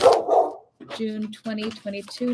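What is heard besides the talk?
dogs barking in the background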